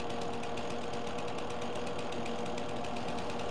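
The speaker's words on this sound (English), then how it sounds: "It has that like chainsaw sound effect." A mower running in Farming Simulator 22 with a buzzing chainsaw-like sound effect, a steady rapid pulsing drone with a mechanical rattle that holds evenly and loud throughout, with no talking.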